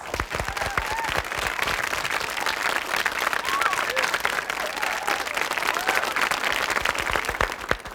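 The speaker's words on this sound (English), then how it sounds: "Let's give them a big round of applause." Sustained audience applause at a music performance, many hands clapping steadily for several seconds with a few faint voices mixed in.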